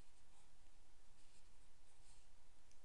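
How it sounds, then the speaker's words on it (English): Chalk or marker scratches faintly and steadily across a board while an equation is written, a soft continuous scraping under a hissy room background, with no talking. "let's just write down one final equation"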